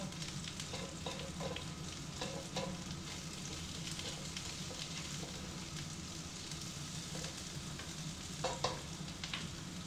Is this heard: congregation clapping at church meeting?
no